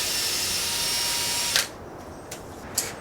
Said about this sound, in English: I drill mounting holes